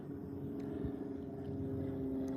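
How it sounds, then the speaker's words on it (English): An airplane drones overhead during a morning fishing outing, a steady low engine hum that holds even throughout, moderately faint and distant with no talk over it. "Airplane."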